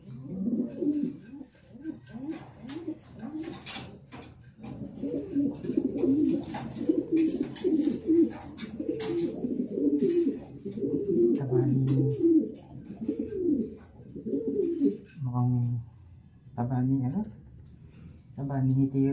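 Pigeons coo steadily in a loft, a close run of soft throaty rolling calls that repeat in a loose rhythm, with someone talking over them for much of the time.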